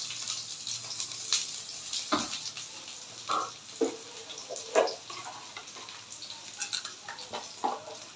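Onion frying in hot oil in a kadai for halim gives a low sizzle broken by scattered clatters and stirring scrapes, close by and uneven, with no speech.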